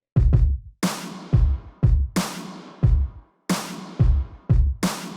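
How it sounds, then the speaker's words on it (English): Layered clap samples in a Kid Cudi style hip-hop beat, one of them crunchier, hit sharply and loudly over punchy low drum hits in a steady repeating pattern, with no voice. "I actually combined two different claps."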